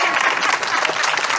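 A church congregation applauding, a steady dense clatter of many hands clapping together, fairly near and continuous without pause.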